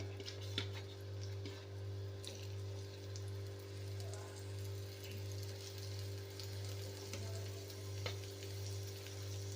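Pieces of boiled egg fry in a pan, with a soft, continuous sizzle and occasional faint pops over a low steady hum.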